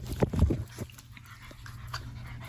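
A dog at an adoption visit pants and snuffles up close, with a few quick breathy bursts early on before settling into softer panting against quiet room noise.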